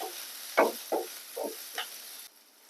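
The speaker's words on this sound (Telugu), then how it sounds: "వీటన్నింటినీ నెయ్యిలో ఫ్రై చేసుకోవాలి" Onion, tomato and curry leaves fry in ghee under a low sizzle, with four distinct spatula stirs scraping the pan at a slow pace, quiet and close.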